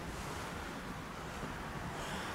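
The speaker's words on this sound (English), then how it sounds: "it's a little bit windier than what I'd like" Wind blows steadily across a microphone outdoors on a cold night at a telescope setup, giving a continuous broadband rushing roar that stays even and unbroken throughout, with no voices.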